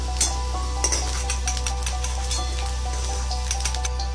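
Potatoes sizzle in hot oil in a pan, a steady crackling fry with scattered sharp pops and spits over a low constant hum, with no voices.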